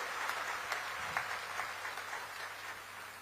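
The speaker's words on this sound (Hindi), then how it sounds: "एक बार जोरदार ताली के साथ हमारे माननीय मुख्यमंत्री जी के आप स्वागत व अभिनंदन कर देते हो" Crowd at a Magh Mela gathering in Damakheda, Chhattisgarh, applauding to welcome the chief minister: steady, fairly faint clapping from a distance, continuous through the moment with no voices on top.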